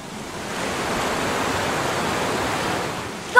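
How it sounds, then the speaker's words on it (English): Steady rushing water from a waterfall in the video game Minecraft: Story Mode, a broad continuous roar that holds even throughout with no voices over it. "The waterfalls!"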